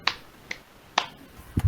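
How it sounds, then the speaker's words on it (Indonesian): Three sharp hand claps, evenly spaced about half a second apart and fairly close, followed by a brief low rustle, no voices. "ketika Ibu bilang tepuk pagi, kita tepuk 3 kali"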